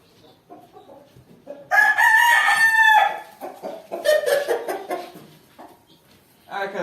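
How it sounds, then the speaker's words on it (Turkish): Chickens in a new coop, with a rooster letting out a loud close crow followed by clucking and more calls from the flock, quiet gaps between. "tavuklarımızı daha yeni yeni getirdik kümesimize"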